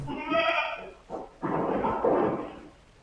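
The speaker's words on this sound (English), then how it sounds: "look at this goat" A goat bleats loudly and close in a wavering call, then a short second bleat, followed by a longer, noisier bleat; the animal is alone with no talking.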